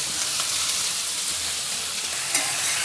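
A tomato chutney mix with tamarind, coriander and curry leaves sizzles in a pan as it is stirred, giving an even, loud frying hiss with one small clink near the end.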